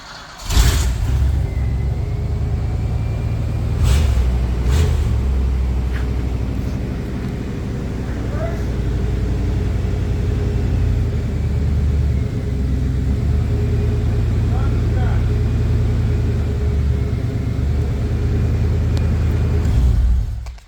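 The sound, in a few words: Chevy 350 V8 engine rumbling with straight-piped Flowmaster 44 exhaust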